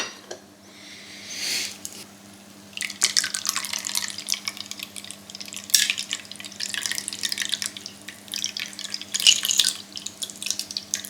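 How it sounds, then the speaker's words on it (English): A Thai tom yum cocktail trickles and splashes into a glass nearby, with faint clinks and a low background hum, pouring in a few bursts. "here we go for the pour"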